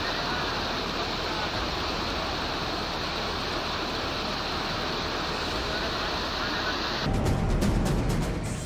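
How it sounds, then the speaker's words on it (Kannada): Floodwater from a stream swollen by torrential rain pours across a village road in a loud, continuous rushing roar that stays constant and grows slightly harsher near the end. "ಗ್ರಾಮದ ಮಧ್ಯೆ ಇರೋ ಕಿರುಹಳ್ಳ ತುಂಬಿ ನೀರು ರಸ್ತೆಗೆ ಬಂದಿದೆ"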